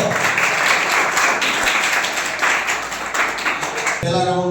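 Students and audience at a tuition-class quiz competition burst into loud, close applause, many hands clapping steadily for about four seconds before it cuts off abruptly and a voice begins.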